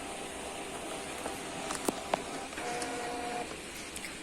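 A Canon IP2770 inkjet printer loaded with pigment ink prints a document, a faint mechanical whirring with small clicks and a brief steady motor whine, heard close and alone.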